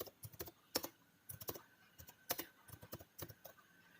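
Rapid, close keystrokes on a computer keyboard as a search term is typed in, clicking in uneven bursts and short runs with brief gaps, alone in a quiet room.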